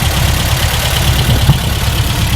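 Classic Porsche 356 engine idling smoothly at close range, a steady low rumble with a faint rhythmic knock, outdoors in a parking lot with no voices.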